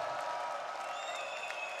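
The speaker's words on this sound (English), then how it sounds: "Applause required." Festival crowd applause at a Roskilde concert in Denmark, a steady wash of distant clapping with faint cheering, continuous and moderately quiet throughout.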